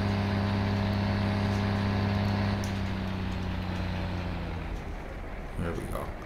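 Engine hum of a Tri-pack Cat CT660 dump truck in Farming Simulator 2015, with steady low tones dropping away after a few seconds as the trailer disconnects, ending in brief clunks, with talk over it.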